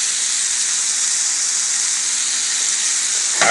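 Onions and peppers hitting a hot pan with chicken for lemon chicken linguine, producing a loud, close, steady hissing sizzle that fills the whole moment and ends with a brief louder burst.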